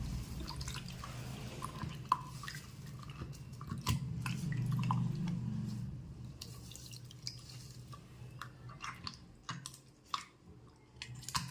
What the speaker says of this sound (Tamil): இதெல்லாம் அப்படியே நல்லா கரைச்சிக்கலாம்.